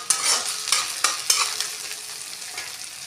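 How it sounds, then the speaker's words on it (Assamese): Whole cumin seeds frying in a pan while being stirred, a bright crackling sizzle with several quick scraping strokes of a spoon early on, then a gentler steady sizzle, close up. "এইখিনি লৰাই দিছোঁ।"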